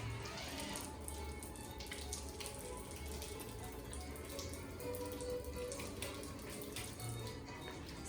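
Hands washed under a running tap in Quebec City, a steady close gush and splash of water throughout with no talk.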